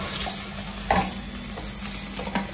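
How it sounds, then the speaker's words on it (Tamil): Tamarind water poured into a simmering village-style mango fish curry in the pan, a steady watery sizzle and bubbling throughout, with a brief louder splash near the middle and another toward the end. "அது புளி தண்ணி ஊற்றணும்."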